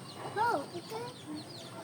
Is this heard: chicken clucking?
yes